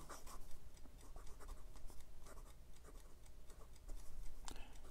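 A Jinhao 159 fountain pen with a number 8 size steel nib scratches across Clairefontaine 90 gsm paper, making soft, close strokes in an irregular rhythm with brief pauses, and no voices.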